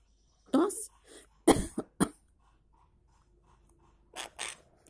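A pet maritaca parakeet imitates a cough, giving a few short, rough, cough-like bursts spaced over several seconds, with a person's voice nearby.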